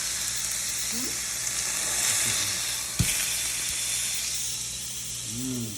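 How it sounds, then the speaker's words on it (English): Ground beef browning in a pan for chili during a freezing spell, giving a steady soft sizzle throughout with a brief clink midway and faint background sounds. "And we got some burger browning."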